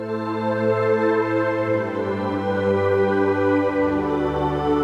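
An ambient synth pad from Omnisphere 3 holds a warm, sustained chord with a deep low note that shifts near the end, smooth and continuous with no attack, close and alone.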